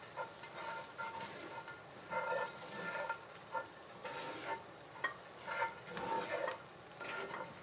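Shagbark hickory nuts stirred in a pan. Soft, irregular scraping and rattling strokes sit over a faint, low sizzle, close up and quiet, with no voices.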